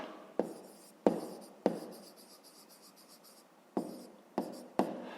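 A pen writes an answer into a school notebook during a fifth-grade maths exercise, making about six close, sharp scratchy strokes with short pauses between them.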